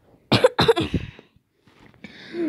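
Two sharp, close coughs in quick succession, followed by a few quieter throat sounds and faint background noise.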